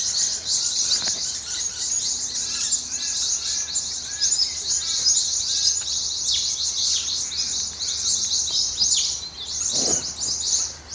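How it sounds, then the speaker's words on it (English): Birds chirp and tweet continuously in the rain outdoors, a dense, bright chorus of many overlapping calls at moderate distance, with no speech. "Shush, birds."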